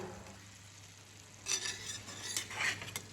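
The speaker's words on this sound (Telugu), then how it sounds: "ఈ పీసెస్ నీట్గా పీస్ ఏం చెదరకుండా మనం ఫిష్ కర్రీకి ఎంత జాగ్రత్తగా కలుపుతామో అలా" A spoon scrapes and clatters gently in a pan, stirring omelette pieces into a curry with coriander, with soft sizzling underneath; a few short bursts of stirring, close and fairly quiet, with no voices.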